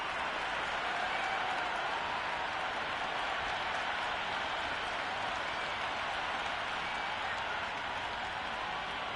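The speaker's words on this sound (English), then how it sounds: "this crowd is already making it hard for me to be heard" Steady roar of a stadium crowd in an E-PSL cricket video game, a broad unbroken wash of noise with faint clapping mixed in, heard at a distance and fairly quiet throughout.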